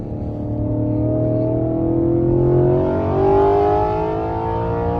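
The V8 engine of a 2014 Audi RS5 with faulty fuel injectors revs up and eases off in a smooth, loud, close rising drone that swells twice, with no talk over it.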